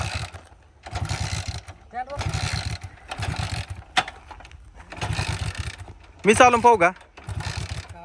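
A motorcycle is kicked over again and again without starting: rhythmic mechanical kick strokes about once a second, close and fairly loud, with someone speaking briefly between them.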